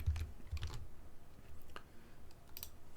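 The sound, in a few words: typing on a computer keyboard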